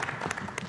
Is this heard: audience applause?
yes